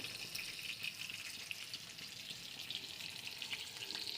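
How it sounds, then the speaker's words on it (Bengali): Food fries gently in a pan over a low gas flame, giving a faint, even sizzle with soft crackles and no voices. "একদম গ্যাস স্লো করে ভাজছি আমি"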